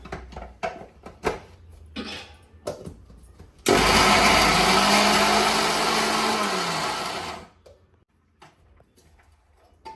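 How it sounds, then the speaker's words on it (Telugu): A kitchen mixer grinder blends onion and red chilli powder into paste for a dondakaya fry, running at a loud, steady whir for about four seconds, with clicks and handling knocks before and after. "ఇప్పుడు మళ్ళీ మిక్సీ పట్టేసుకుందామండి దీన్ని"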